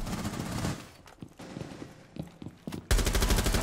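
Rapid video game gunfire in Rainbow Six Siege crackles in bursts at middle distance, then a loud sustained volley of automatic fire breaks out close by at the end.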